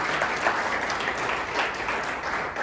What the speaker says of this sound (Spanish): Así que dense un aplauso,